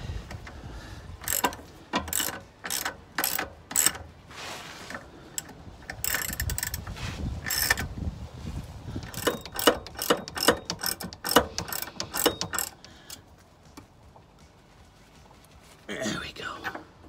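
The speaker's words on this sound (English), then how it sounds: "And it now means I can actually use a socket on the end here." Close, rapid clicking bursts from a ratchet driving a socket onto a drop link on a BMW 530d, in repeated runs of quick clicks with pauses between, some faint mechanical handling underneath.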